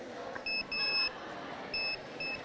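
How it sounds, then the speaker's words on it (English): A 9-volt battery-powered science fair device gives several short electronic beeps, two brief and two longer tones in an uneven pattern, heard close over a murmuring indoor background. "it just beeps"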